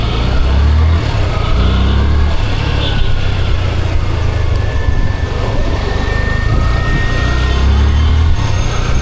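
A brand-new Yamaha motorcycle just out of the showroom runs with a steady, loud engine drone, rumbling continuously close by as traffic noise and faint voices mix in.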